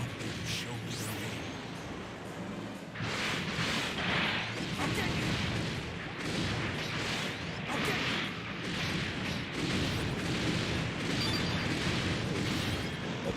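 Explosions in the video game Dynasty Warriors Gundam 3, a steady run of loud crashing bursts and whooshes, sustained and dense throughout, played over busy game effects.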